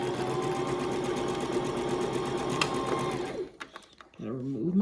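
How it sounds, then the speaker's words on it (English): A sewing machine stitches a quarter-inch seam on a scrappy lap quilt, running in a steady, loud, continuous whir for about three seconds before stopping, followed by faint handling noises and a brief voice. "I'm going to just go ahead and I'm going to sew this down 1/4 inch seam."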